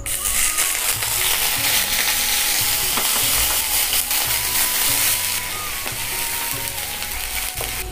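Sliced onions sizzle and fry in a hot pan with dry red chilli, cloves and cinnamon while cooking a cabbage kofta curry, a steady dense crackle with occasional stirring clatter, close and continuous throughout.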